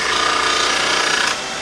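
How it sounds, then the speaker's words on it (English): Roughing gouge held flat on a platform and drawn across a grinding stone, a loud close steady grinding hiss with fine rattling texture that drops slightly near the end. "I put it in line with the grinding stone, I start at one side, I work my way across, keeping it flat on the platform"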